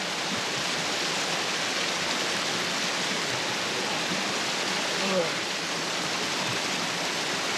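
A mountain stream rushes in a constant, loud, dense hiss of flowing water in the dark, steady throughout with no clear breaks.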